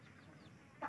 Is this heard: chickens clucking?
yes